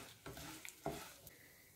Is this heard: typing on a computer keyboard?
no